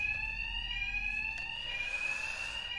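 A Batman Arkham Knight video game alarm rings continuously with a shrill, steady electronic tone and harmonics, loud over a low background rumble and a brief click midway.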